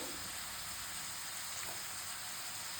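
Chopped onions frying in a pan of oil, a steady, even sizzle and hiss throughout with no talking.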